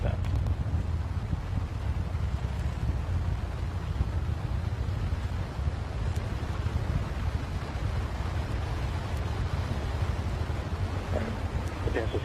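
NASA Artemis SLS rocket engines roar through a hot fire test, a steady, heavy, unbroken low rumble that stays constant and thick for the whole stretch, with no voices.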